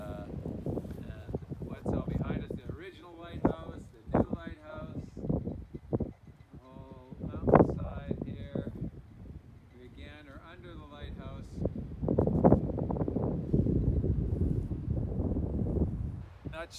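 Strong wind gusts buffet the microphone at the Cape Spear lighthouse on an exposed coastal headland, roaring in uneven bursts throughout while people talk over it.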